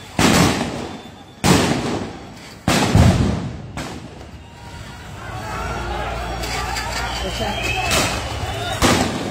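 Sharp sound grenade blasts go off at a street protest in Sylhet, four loud booms spaced a second or two apart, set against a steady crowd murmur and distant shouting.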